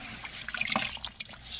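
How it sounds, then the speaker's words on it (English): Water trickles and drips steadily through freshly rinsed filter media from a Fluval 407 canister aquarium filter, close and fairly soft, ending in a louder splash. "pick them up, let it drain through"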